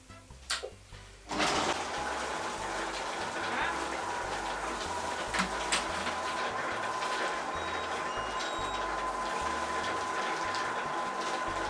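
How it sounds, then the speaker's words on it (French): A Silvercrest Companion multicooker runs at speed 4 mixing a nougat yogurt mixture, a steady motor whir that starts abruptly after a brief knock and holds evenly, with a soft pulsing undertone. "je vais le lancer 1 minute, ça va suffire, ça va bien mélanger"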